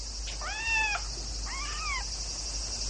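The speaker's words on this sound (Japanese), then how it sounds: "猫がいますよ。" A cat meows twice in quick succession, two drawn-out, slightly wavering cries over a steady background hiss, fairly close by near a garden pond behind a house.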